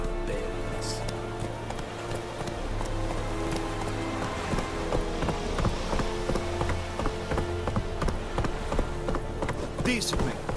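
Horse hooves clop in a steady running rhythm in The Witcher 3, close and continuous over game music and ambience, with no voices.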